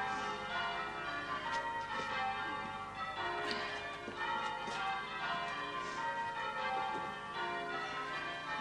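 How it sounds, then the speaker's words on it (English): Church bells peal continuously, their overlapping tones ringing out loud and resonant with no voices. "They got to stop ringing them bells."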